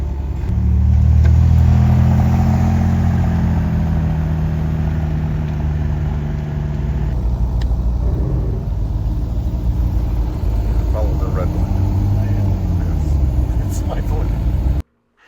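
Porsche sports cars cruise along a highway in the Colorado Rockies, with a steady loud low engine rumble and road roar heard from inside or close behind, rising and easing with speed.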